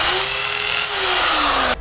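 A power drill runs steadily against a household wall, its high-pitched motor whine sustained and loud for nearly two seconds, dipping slightly in pitch under load before cutting off abruptly at the end.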